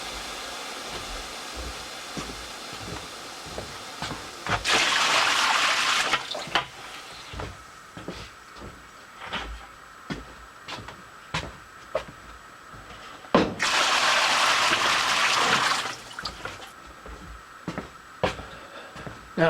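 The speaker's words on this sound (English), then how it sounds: "it looks like we need more water in the tray, so first thing we're going to do is do that." Water runs into a cutting table tray in two loud hissing bursts of a few seconds each, between quieter clicks and knocks.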